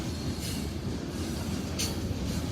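A CSX freight train on the railroad in Indiana rumbles past in a steady, loud, close roar of wheels and rail noise, with faint brief squeals and no voices.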